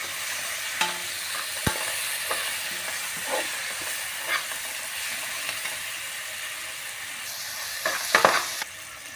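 Potato curry with masala and salt frying in a pan, stirred continuously: a steady broadband sizzle with scattered scraping spoon strokes and a louder clatter of scrapes near the end, with no one talking.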